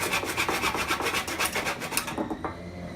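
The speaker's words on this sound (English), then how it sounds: "Now I cut this piece of wood to the right size for the hinge" A hand saw cuts through thin 3.5mm plywood with quick, close rasping back-and-forth strokes, loud and rhythmic, stopping partway through as the piece comes free.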